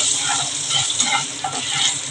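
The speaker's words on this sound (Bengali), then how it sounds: "আমার একটু মেথিটা ভাজা হবে" Fenugreek seeds fry in hot oil as a tempering for a rohu fish curry, giving a steady close crackling sizzle with light stirring scrapes throughout.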